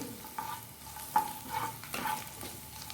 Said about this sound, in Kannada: ಹಾಕಿ ಒಳ್ಳೆ ಫ್ರೈ ಮಾಡಿಕೊಳ್ಬೇಕು